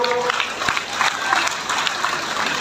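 Audience applause at a political rally, a dense wash of clapping hands that holds steady and close for the whole stretch, with a faint voice briefly audible underneath.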